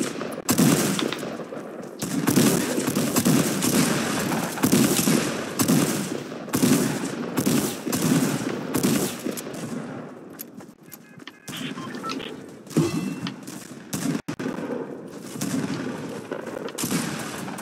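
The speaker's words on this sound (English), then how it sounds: "Shooting." Rapid automatic gunfire crackles loud and close in a Fortnite match, with sustained bursts that pause briefly and then resume in long volleys.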